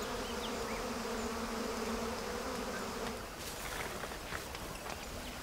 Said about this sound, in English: Believing there to be a forest fire, the bees start to evacuate the hive.